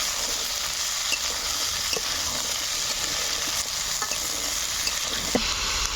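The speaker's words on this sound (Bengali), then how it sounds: "আলু বেগুনটাকে ভালোভাবে লাল করে ভেজে নেব" Potato and eggplant fry in hot oil in a pan, a steady close sizzle running throughout with a few soft clicks of stirring and no voices.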